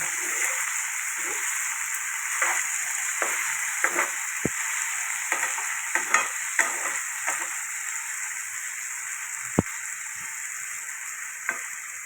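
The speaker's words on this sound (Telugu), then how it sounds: "అరటికాయ వేపుడు చేస్తున్నాను చూసారా" Boiled raw banana pieces frying in oil with seasoning seeds, a steady high sizzle with scattered pops and spatters and occasional stirring scrapes, close and moderately loud without speech.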